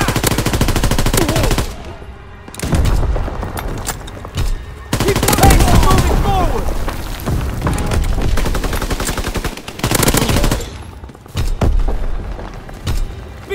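Rapid machine-gun bursts and heavy booms fill a Call of Duty WWII multiplayer battle, loud and near, with short gaps between volleys and faint shouted voices mixed in.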